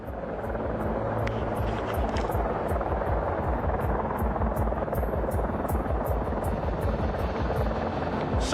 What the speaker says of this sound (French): Un autre hélicoptère militaire est apparu.